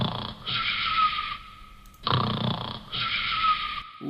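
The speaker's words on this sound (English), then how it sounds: "snore" Two long, loud snores rattle close by, each a rasping inhale followed by a pause, repeating in a slow, even rhythm.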